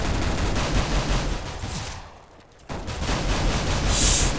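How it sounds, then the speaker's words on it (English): Rapid, dense automatic gunfire from the video game Counter-Strike: Global Offensive, loud crackling bursts that briefly drop away before resuming with sustained rattling shots. "I hear a lot of gunfire."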